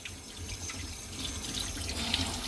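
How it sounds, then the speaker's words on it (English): Tomatoes rinsed under a running kitchen tap, a steady close stream of water splashing into a sink with small drips and shifting gurgles as the fruit is turned under the flow. "I'm going to rinse them, wash them like I normally do for all my fruits and vegetables"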